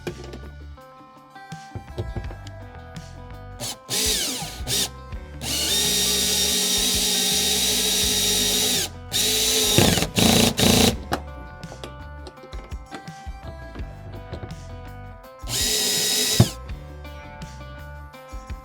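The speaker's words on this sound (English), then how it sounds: "Use a 3/8 inch wrench and a Phillips drill bit with a drill set on a medium clutch" A power drill drives screws with a Phillips bit on medium clutch setting, fitting an H-bar to a Hobie Compass kayak, whirring in several bursts, one long sustained run and shorter pulses, with clicks and handling noise between them; close and loud.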